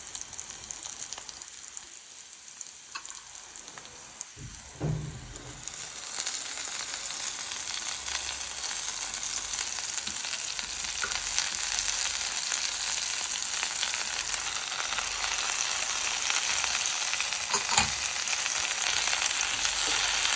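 Gongura leaves hitting hot oil with green chillies and cumin, a sudden loud sizzle that settles into a steady, close frying hiss running on without a break.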